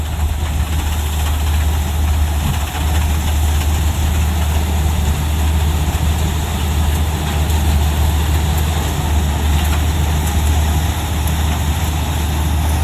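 A combine harvester engine runs steadily on a farm, cutting crop quickly: a loud, continuous low diesel rumble and idle-like drone held without a break throughout, with no talk.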